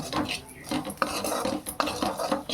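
A metal utensil scrapes and clinks against a pan while dry-roasting ingredients for stuffed bitter gourd curry, a busy run of close scraping strokes and taps with no talking.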